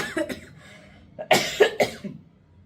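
Several close coughs in quick succession, a few small hacks then a louder burst of two or three harsh coughs, no talking.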